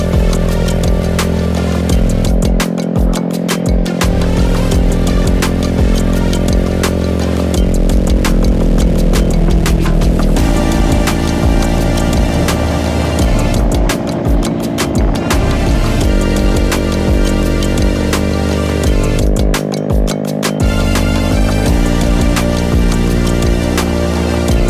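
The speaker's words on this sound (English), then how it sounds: "let's get back on the bikes and shred down the hill" Several motorcycles ride down a winding hill road on the Tail of the Dragon, engines droning loud and steady with shifting pitch as they lean through curves and change gears.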